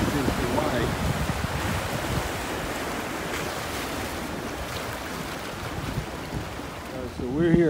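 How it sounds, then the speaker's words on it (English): Ocean waves at a popular Hawaiian beach: continuous surf wash and rumble mixed with wind buffeting the microphone, moderately loud and steady, with faint voices in the background. "This is the beach in Hawaii."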